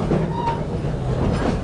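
Serengeti Railway train at Busch Gardens Tampa rolling steadily, a continuous low rumble of rail cars running throughout, with a faint voice underneath.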